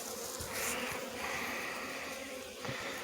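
Honey bees hum around an open hive in a yard, a soft, steady buzzing of many insects close by, rising and falling slightly with no talk.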